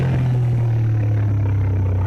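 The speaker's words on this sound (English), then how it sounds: "It sounds like a big ass engine, even with stock, even on the stock exhaust." Ducati Diavel motorcycle engine running on its stock exhaust, a deep, loud, steady low thump close by with a constant throbbing rumble and no voices.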